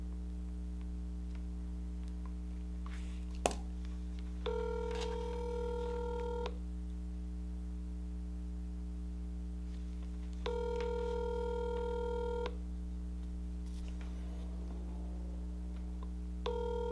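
A phone call dials and then rings, with a steady low line hum throughout, a sharp click early on and two long repeated ringback tones separated by silence, heard alone without talk.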